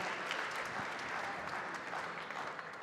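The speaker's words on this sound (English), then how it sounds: "a round of applause for our two teams here that kick it off for the evening" An audience gives a steady round of applause for two teams at a competition finals evening, dense clapping sustained throughout at a moderate, even level.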